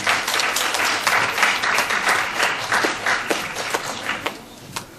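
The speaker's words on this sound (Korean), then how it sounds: "우리 큰 박수로 환영하겠습니다" A crowd at a talk by the head of Hand Studio breaks into welcoming applause, loud dense clapping that rolls on for several seconds before thinning out toward the end.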